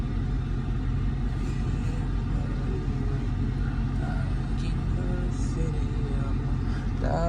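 Interior of a new car reversing and driving through a neighborhood, a low steady engine and road rumble throughout, with someone talking over it.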